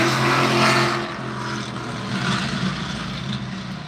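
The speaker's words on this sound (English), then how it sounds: "That car just made a sound" A car passes with a broad engine and road rumble that swells loudest early, then fades into a steady, softer drone, with no talking.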